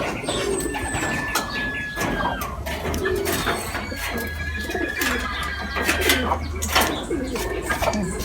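Racing pigeons coo near and far as they return from a training flight in Pangasinan, with soft repeated coos, scattered chirps and whistles over steady outdoor background noise.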